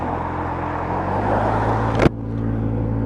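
A Honda Dylan 125cc scooter pulls away under full throttle with a steady, loud engine drone that builds in strength, then drops briefly just after two seconds before carrying on at a lower pitch, with road and wind noise throughout.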